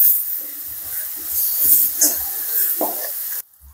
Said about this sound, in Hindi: सभी को भून लेंगे।